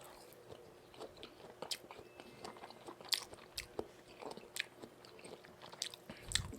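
Close-up chewing and biting of Korean food, chewy tteokbokki and pan-fried jeon, with soft squishy mouth sounds and scattered crunchy bites in an irregular rhythm over a quiet background.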